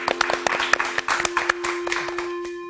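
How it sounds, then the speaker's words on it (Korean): A studio audience claps for a teacher's entrance on a Korean Bible lecture program, a quick burst of sharp, close hand claps over a steady electrical hum. "박수!"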